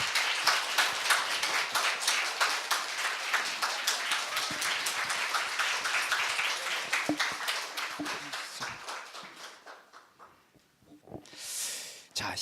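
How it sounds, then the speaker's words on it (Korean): Warm audience applause welcoming a playwright at a humanities arts concert, steady dense clapping that thins out and fades after about nine seconds, followed by faint scattered noises. "윤조병 선생님 뜨거운 박수로 맞이해 주시기 바랍니다"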